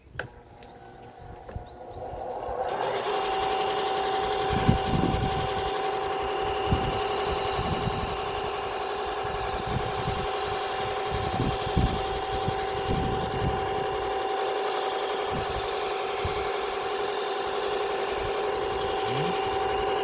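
A restaurant kitchen knife being sharpened and polished on a steady motor-driven grinder or belt, a constant whine and hum with repeated short rasping strokes of the blade running across it, close and fairly loud.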